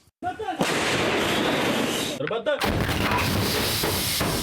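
Artillery firing at enemy infantry on the Ukrainian front: a loud, near blast bursts in, a dense rumbling roar sustains, a brief drop, then a second heavy report with rolling wash that fills the remainder.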